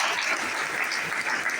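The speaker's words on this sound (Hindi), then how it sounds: "एक बार दिल से जोरदार ताली।" An audience claps steadily and loudly at a stage event, a dense continuous wash of applause with no gaps.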